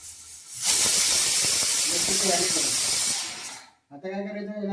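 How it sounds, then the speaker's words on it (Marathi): A pressure cooker whistles while mutton cooks over a gas flame, a loud, sustained steam hiss blasting for a few seconds, then cutting off abruptly before a voice speaks. "एक शिटी होते."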